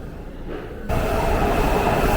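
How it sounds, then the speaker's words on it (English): A metro train at a Washington DC station rumbles loudly, and the noise jumps suddenly to a steady roar of rolling wheels and rail noise, with no voices. "We gotta get on this train and then head to Metro Center."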